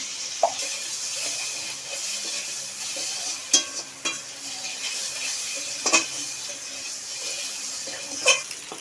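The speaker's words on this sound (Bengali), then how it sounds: "ডিমগুলো একটু ভাজা ভেজে নেবো" Eggs fry in a pan with salt and turmeric, giving a steady soft sizzle and hiss, with occasional sharp clinks of a utensil against the pan.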